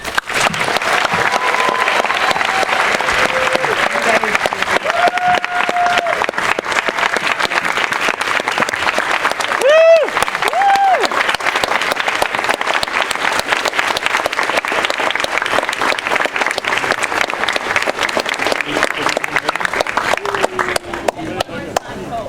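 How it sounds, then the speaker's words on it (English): Audience applause at a Q&A with the cast and creator of a TV series finale, held at Walt Disney Studios; loud, continuous clapping with a few whoops and voices cutting through. "Please give them a round of applause."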